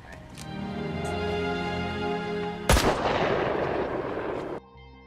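Gunfire in a North Korean special forces action film, a sustained loud burst of shots with a sharp crack near the middle, then an abrupt cutoff leaving faint background.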